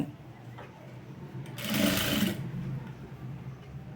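A sewing machine stitches leaf-model piping along a blouse back neck, a faint hum swelling into one loud burst of stitching for about a second before easing back to a quiet hum.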